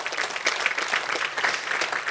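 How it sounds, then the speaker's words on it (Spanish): Church congregation applauding together, a steady dense wash of clapping from many hands filling the room without pause, moderately loud and even throughout. "Dale un aplauso al Rey, hermanos, en esta hora."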